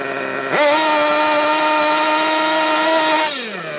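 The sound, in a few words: RC car nitro engine running rich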